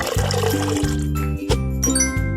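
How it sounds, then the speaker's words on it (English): Bubbles being added to a bathtub in a kids' video game, heard as a bright, steady tinkling chime with stepped tonal notes in a loud, continuous game-sound loop. "Add the bubbles."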